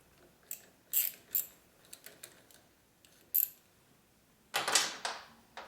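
A ratchet wrench works on a bolt of a 1983 Harley-Davidson FXRT Shovelhead motorcycle, giving several short clicking bursts with pauses between them and a longer run of clicks near the end, close and clear.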